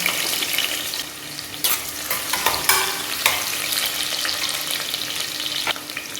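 Thinly sliced onions frying in hot oil in a pressure cooker, making a steady crackling sizzle with a few louder bursts as they are stirred, close and without voices.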